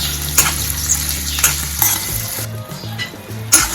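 Gunda (glue berries) are stirred in hot oil, with a loud, continuous sizzle and fry broken by repeated scraping strokes and knocks of a utensil against the pan.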